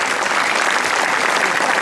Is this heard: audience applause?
yes